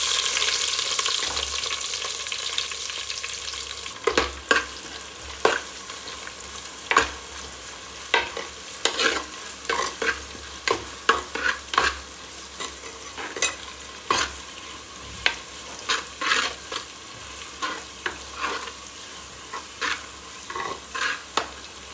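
Onions fry in oil in a pan for pudina chicken, giving a soft continuous sizzle as a spoon stirs with repeated scraping clinks against the pan, close and irregular.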